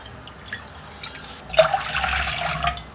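About one and a half cups of water are poured into a kadhai wok on the stove, a sudden splashing gush that follows a quiet pause and runs on for over a second.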